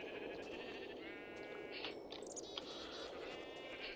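Sheep bleating in the Minecraft Tekkit video game, several wavering bleats in quick succession over a steady background hum, moderately loud and without talk.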